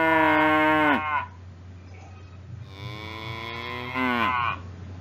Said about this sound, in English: Let's see the sound produced by cow.